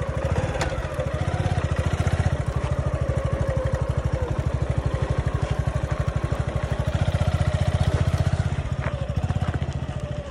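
A four-stroke motorcycle engine runs steadily at idle with an even, rapid thumping beat, close by and alone for the whole stretch.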